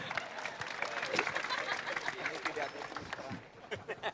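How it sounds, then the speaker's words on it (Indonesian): An audience at a reform anniversary talk show in Indonesia applauds, a loose, moderately loud patter of clapping mixed with crowd murmur and some voices. "Tepuk tangan buat Rocky dong."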